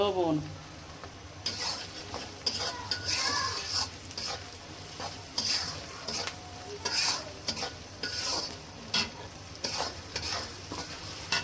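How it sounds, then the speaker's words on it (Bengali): Onion and chili frying in a pan for a prawn bhuna, heard as a steady sizzle with a spoon repeatedly scraping and knocking against the pan in uneven bursts. The sound is close and clear, with no talk. "পেঁয়াজ মরিচ হালকা একটু ভেজে নিয়েছি"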